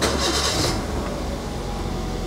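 A 2011 Toyota Avanza S with a 1.5-litre engine and automatic gearbox starts up: a brief loud cranking burst at the start, then the engine settles into a steady, close idle hum.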